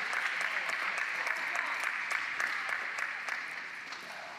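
A crowd cheers and applauds steadily at a professional beach volleyball match at an Atlanta event, dense clapping with a few louder bursts, holding strong before easing slightly toward the end.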